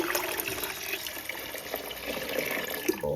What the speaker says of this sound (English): gonna add water to the pot.